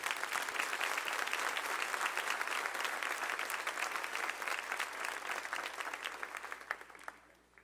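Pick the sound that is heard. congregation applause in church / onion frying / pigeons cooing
congregation applause in church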